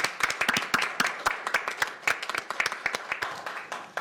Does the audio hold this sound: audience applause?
yes